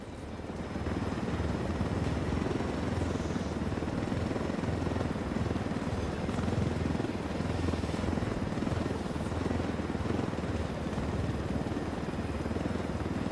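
Helicopter flying in the Ghost Recon video game: a loud, steady rotor-and-engine drone that runs continuously and evenly for the whole stretch, with no voices.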